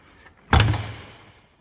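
A Peterbilt 379 truck's heavy door thuds shut, its inner panel not yet attached, a deep close slam with a brief rattle that rings and fades over about a second.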